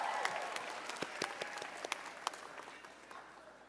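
Graduates and guests at a pharmacy college commencement ceremony give sustained applause, a dense wash of many hands clapping from a large crowd, heard at a moderate distance and fading slightly toward the end.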